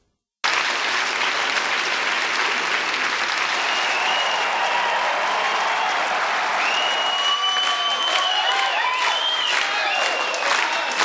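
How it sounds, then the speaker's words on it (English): A blended crowd cheer layer in a Wwise blend container: steady, dense applause and cheering from a large crowd that runs throughout, with rising whistles and shouts near the end. "The added cheer blend track adds more realism to this blend container."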